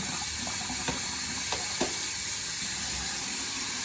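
A kitchen tap runs steadily into a sink while raw chicken is washed under it. The water hiss is constant and close, broken by a few soft splashes and knocks.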